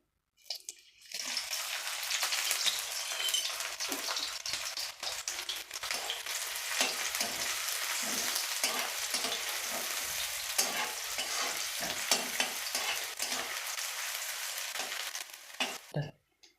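Four small chopped onions frying in half a cup of hot oil give a steady, fairly quiet sizzle that starts suddenly and cuts off near the end, with light stirring scrapes throughout and no talking.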